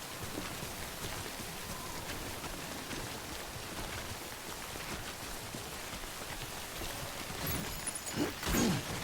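Timefall rain pours in the video game Death Stranding, a dense steady downpour hissing on surfaces throughout, with a brief louder rumble near the end.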